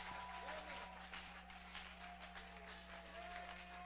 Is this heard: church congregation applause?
yes